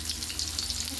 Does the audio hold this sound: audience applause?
no